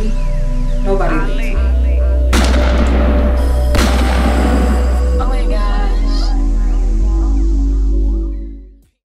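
Two sharp, loud gunshots crack a couple of seconds apart in a tense dramatic scene, over a low rumbling music bed that fades out at the end.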